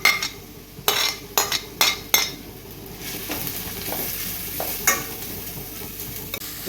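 Carrots sautéing in coconut oil left over from frying chicken, a steady sizzle broken by several sharp scrapes and clinks of a spatula against the pan, close up with no voices.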